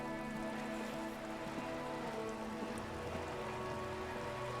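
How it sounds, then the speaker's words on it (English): Steady rain patters on surfaces as an ambient effect in the video game Disco Elysium, a constant moderate hiss of drops with no talking. "What beautiful like rain effects."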